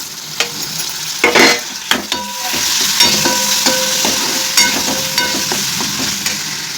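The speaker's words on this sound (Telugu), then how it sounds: "ఇప్పుడు మనం కట్ చేసి పెట్టుకుని టమోటో కూడా వేసుకుందాం" Chopped tomatoes sizzle steadily in a pan of prawn curry while a spoon stirs and clanks against the metal with several sharp scrapes and knocks, close and fairly loud, with no talking.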